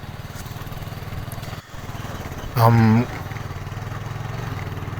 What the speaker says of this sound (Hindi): हम क्योंकि मोटरसाइकिल पे हैं और ट्रैक्टर पीछे आ रहा है